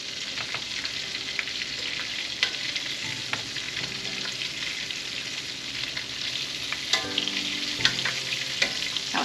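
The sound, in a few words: chicken nuggets frying in grease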